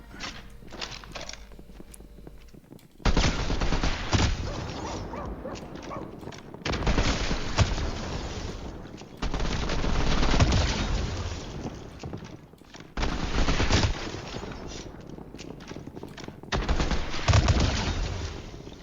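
Gunfire in the video game Fortnite, bursts of rapid shots in several loud sustained volleys separated by short quieter gaps, with scattered footsteps and game ambience.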